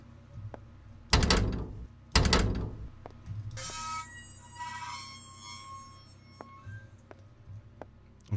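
Locked doors rattling and thudding in the indie horror game Skinned Alive: two loud, heavy thumps about a second apart, then a ringing, eerie tonal sweep with scattered faint clicks inside a dark ambient drone.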